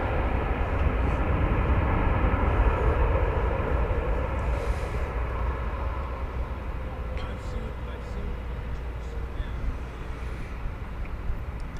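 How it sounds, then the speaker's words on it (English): An American Airlines Boeing 737-800 on a flight from McAllen, Texas, at Dallas–Fort Worth airport gives a loud, continuous jet rumble that slowly fades, with faint talk in the background. "We give you American Flight 3050 from McAllen, Texas,"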